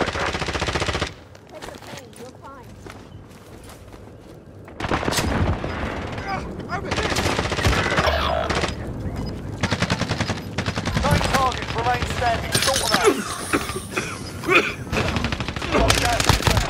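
Heavy explosions and rapid gunfire from an airstrike in a battle royale video game, loud and continuous after a quieter opening, with voices talking beneath the barrage.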